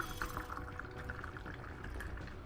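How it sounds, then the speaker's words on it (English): A drink being poured near a microphone: a quiet, continuous liquid trickle and splash that runs steadily throughout, with no talk over it. "That's just me pouring another drink."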